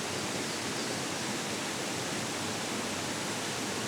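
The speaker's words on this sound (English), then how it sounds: "a waterfall less than a minute's walk from the campsite" Waterfall near a campsite in Arkansas after recent rains, a steady dense rushing roar of falling water, close and constant, with no voices.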